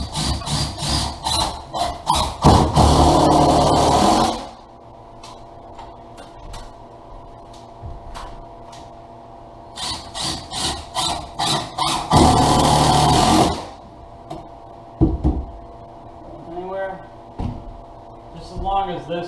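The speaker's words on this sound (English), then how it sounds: "I'm going to put the blocker in the wall with the" A power drill drives 3-inch screws through a wooden blocker into a kitchen wall before upper cabinets are hung, two loud whirring bursts separated by quieter handling noise and a voice talking.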